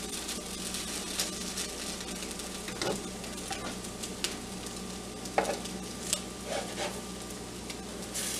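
French toast sticks frying in a pan while being turned over, a steady soft sizzle with occasional sharper pops and light scraping taps from a utensil.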